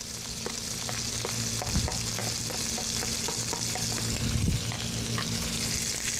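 Shallots and shrimp sizzling in a hot pan over high heat, a steady loud frying hiss with occasional stirring scrapes and clinks, close up and without talk.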